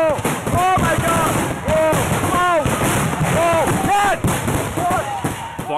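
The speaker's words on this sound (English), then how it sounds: "Fireworks weren't exploding in the sky, they were shooting straight at the crowd, hitting spectators like shrapnel." A California Fourth of July fireworks display goes wrong, with rockets shooting into the crowd: repeated whistling, sweeping shrieks and bursts overlap with people screaming nearby.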